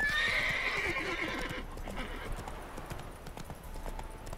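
A horse whinnies with a high, bright neigh and its hooves clop along a road in The Witcher 3: Wild Hunt, near Oxenfurt and the Novigrad lands. The call fades after about a second and a half, and soft hoofbeats and ambient game sounds follow.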